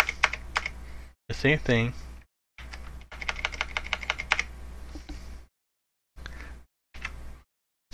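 Clicky bursts of keystrokes on a computer keyboard come in several short runs separated by pauses, with someone talking over parts of the typing.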